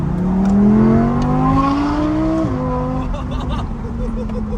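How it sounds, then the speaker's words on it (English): An Audi R8 engine in dynamic mode revs hard, its pitch climbing smoothly to the top of the rev range before a sudden drop at a gear change, then a steady throaty growl. "Sounds mint when it gets to the top end of the revs."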